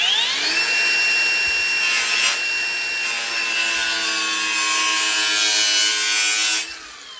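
A custom car A-pillar piece is cut with a steady, high-pitched rasping whine that holds for about six and a half seconds and then stops abruptly, close and loud with no talking.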